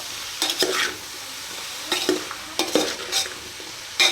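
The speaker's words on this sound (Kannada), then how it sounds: "ಸಪ್ರೇಟಾಗಿ ಸ್ಟಿಫ್ ಫ್ರೈ ಮಾಡ್ಕೊತಾ ಇದ್ದೀನಿ ಬೀಟ್ರೋಟ್ನ ಸ್ವಲ್ಪ ಬೆಣ್ಣೆ ಸ್ವಲ್ಪ ಅರಿಶಿನ" Beetroot stir-frying with butter and turmeric in a pan: a soft steady sizzle under bursts of spoon scraping and stirring, close by, with quiet gaps between strokes and no talking.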